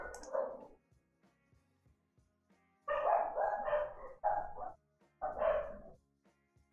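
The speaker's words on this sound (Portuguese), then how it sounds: "do nada a cachorrada na rua resolve" Dogs barking out on the street, a single bark followed by a run of overlapping, insistent barking after a pause, somewhat distant and muffled.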